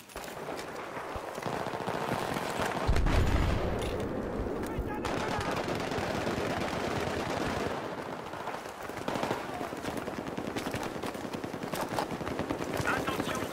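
Bursts of machine-gun and rifle fire in a Battlefield 3 match on the Grand Bazaar map, loud rattling volleys with a heavy blast near the start and radio chatter in the background.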